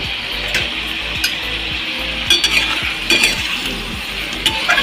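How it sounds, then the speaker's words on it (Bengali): Maya fish chorchori with mustard and cumin paste cooking in a pan, with a continuous sizzle broken by repeated scraping and clinking of a metal spatula against the pan, close and fairly loud, with no one speaking. "আর এদিকে সে মায়া মাছের চচ্চড়ি হচ্ছে।"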